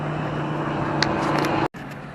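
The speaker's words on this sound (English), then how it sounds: "Just letting a cement truck pass me by." A cement truck rumbles past close by, a steady low engine drone that cuts out for a moment near the end, with faint higher noises over it.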